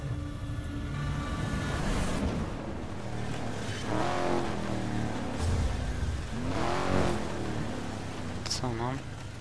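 A car drives and races in Need for Speed Most Wanted, a continuous engine drone with rising and falling revs close up, under game sounds and occasional talk.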